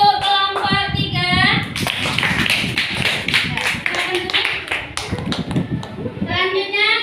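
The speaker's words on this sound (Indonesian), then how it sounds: "tepuk tangan untuk kelompok 3" Classroom students clap together for a group during an Islamic religious education lesson, a busy burst of hand claps and taps running throughout with children's voices and a teacher talking over it.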